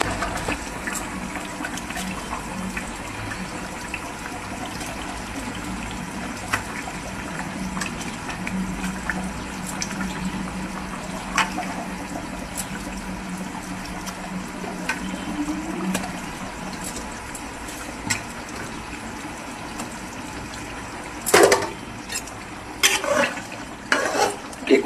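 Koi fish going into a hot pan and cooking, a steady bubbling sizzle that holds for the whole stretch, with a few sharper crackles and clatters near the end.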